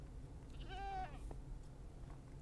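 A goat in a video game gives a single short wavering bleat, faint and fairly distant, over a quiet low background hum.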